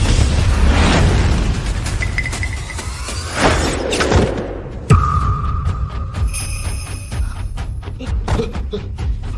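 Gunshots and explosions in an action fight scene: heavy booms and sharp bursts, a big blast near the middle followed by ringing tones and scattered pops, loud and close.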